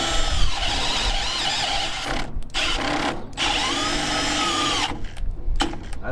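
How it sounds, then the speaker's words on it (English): A power drill bores out a hole in a sleeve on a 1959 Plymouth, a loud high-pitched grinding squeal that runs in bursts with brief pauses between passes, close by and without talk. "I'm going to start by drilling this hole out in increments"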